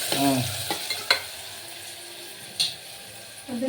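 Onion and tomato fry in a pan with a steady sizzle, broken by a few sharp stirring clacks, while a voice murmurs briefly at the start.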